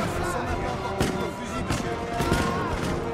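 Infantry musket volleys in Total War: Napoleon, a Napoleonic battle game with Spanish revolutionary guard troops, crackling as dense ragged gunfire with sharper bursts around one, two and two-and-a-half seconds under steady battle din and voices.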